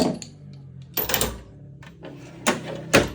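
Metal drawers of a mechanic's portable toolbox slide and clunk, with three or four distinct bursts of rattling scrapes spread across a few seconds, close and moderately loud with quiet gaps between.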